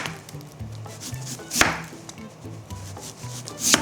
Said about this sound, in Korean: 무 하나를 채 썰어서 소금에 절여 줄 겁니다.